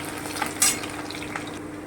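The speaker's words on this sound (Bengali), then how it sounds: "এটা একটু ভাজা ভাজা হবে রসুনটা একটু ভাজা হবে" Garlic paste frying in a pan for mutton liver kosha gives a steady, fairly quiet sizzle, broken by a few soft scrapes and one sharp clink of a stirring utensil against the pan.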